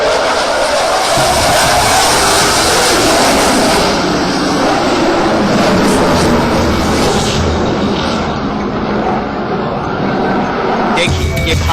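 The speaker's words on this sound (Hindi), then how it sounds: "ये भारत का सबसे ताकतवर लड़ाकू विमान सुखोई 30 है" A Sukhoi Su-30 fighter jet flies at the Aero India airshow in Bengaluru, its loud, continuous engine roar filling the air with a broad rushing sweep that swells and fades across the pass.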